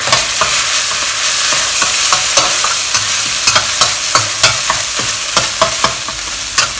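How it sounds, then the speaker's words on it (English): Hot and spicy chili paste fries in oil with a loud, close, continuous sizzle, punctuated by repeated sharp scrapes and clicks of a spatula stirring the pan. "Fry until you extract the chili oil from this paste"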